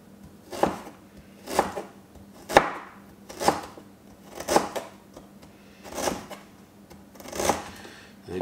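A knife chops peeled ginger into small pieces for kimchi, with seven or eight evenly spaced, crisp, close thuds on a cutting board at a slow, regular rhythm.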